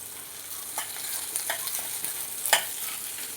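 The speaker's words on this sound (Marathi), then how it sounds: "आता कांदे आपल्याला छान तेलामध्ये परतून घ्यायचे" Two large, long-sliced onions sizzle quietly in oil in a pan for a fish curry, with a steady soft hiss and a few brief scraping stirs.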